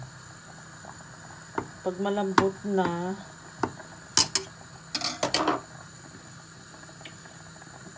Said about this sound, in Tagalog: nag-boil ako ng potato para sa mashed potato